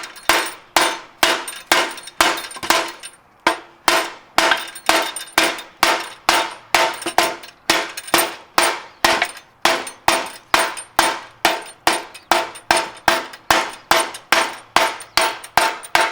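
A flat-face hammer drives a bushing into a control arm with steady, evenly spaced sharp metallic blows, about two per second, loud and close with brief pauses.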